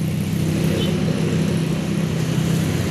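A Luragung Jaya Utama Pangestu intercity bus with a yellow SR2 body pulls in from the Kota Bumi Tangerang direction, its engine a steady, loud low rumble throughout with no talk over it.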